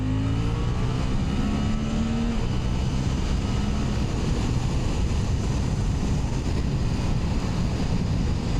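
A Suzuki GSX-8R motorcycle engine pulls hard to overtake, its rising drone blurred by steady, loud wind rush with no talk.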